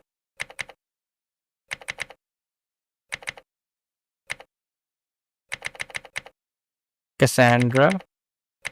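Short bursts of clicking keystrokes on a computer keyboard come in quick clusters separated by pauses, close and crisp, entering a make directory command, followed by one spoken word.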